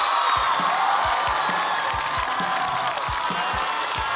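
A stand-up comedy audience applauding as the next performer is called on stage: dense, continuous clapping from a large crowd, with steady rhythmic claps standing out near the front.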